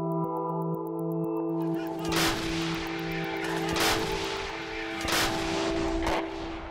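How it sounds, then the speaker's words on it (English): Azerbaijani artillery guns fire in war footage, with several heavy, sharp booms spaced a second or two apart over a steady mechanical hum and electronic beeping tones. "Azerbaijan also released footage of its artillery in action."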